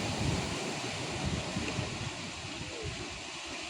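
Ocean waves breaking at Le Gouffre, a rocky inlet at Étang-Salé on Réunion, come through as a continuous rumbling wash of surf mixed with gusty wind buffeting the microphone, fairly distant and steady, with no one talking.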